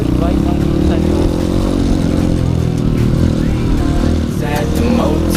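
A Honda CRF 150L dirt bike engine runs steadily and loudly up close, a continuous throbbing drone with slight rises in revs, while a voice talks over it.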